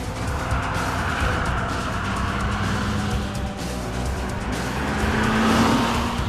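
An Audi sports compact with a 2-litre TFSI engine drives hard on a circuit, its engine roaring continuously with rising revs near the end and possible tire squeal.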